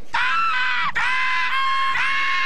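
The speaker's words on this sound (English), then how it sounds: "Did you hear him scream?" A cartoon character lets out a loud, high-pitched scream in several sustained bursts, each dipping briefly before rising again, close and alone.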